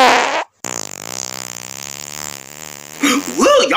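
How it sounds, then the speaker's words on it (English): A long, low, buzzing fart drags on for over two seconds after a short pause, loud and close, followed by people's voices and laughter. "Yeah, I farted."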